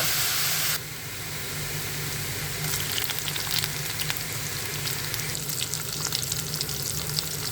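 Boiled bottle gourd leaves tipped into a hot pan, with a loud, close, continuous hissing sizzle and faint crackles, no voices.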